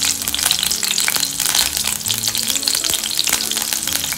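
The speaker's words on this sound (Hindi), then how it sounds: "हल्का सा कलर चेंज हो जाए जब तक हम इसे फ्राई करेंगे" Garlic cloves and green chilies frying in a pan, a dense, loud, continuous sizzle with occasional stirring clatter, close and unbroken by talk.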